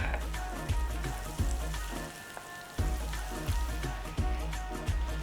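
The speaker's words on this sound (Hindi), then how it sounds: "टिक्कियां लेंगे और तेल में डालेंगे, बढ़िया गरम तेल में" Beetroot and potato tikkis sizzle steadily in hot oil, a dense crackling hiss that runs the whole time with soft rhythmic thumps underneath.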